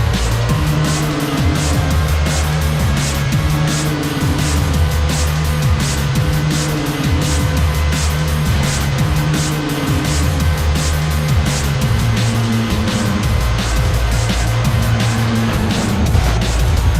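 Formula One race car engine in the N64 racing game F1 World Grand Prix 2, a loud continuous high-pitched whine rising and falling through gear changes, with occasional tire squeal, running steadily throughout with no talking.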